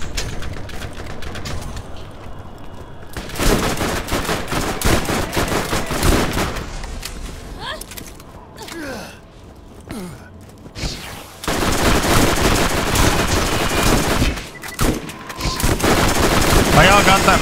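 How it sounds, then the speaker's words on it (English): Explosive shotgun fire in the video game Borderlands, loud rapid bursts of gunfire in two long barrages with a quieter gap between them, over game background noise. "Oh, the explosive shotgun."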